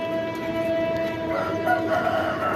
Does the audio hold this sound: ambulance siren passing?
no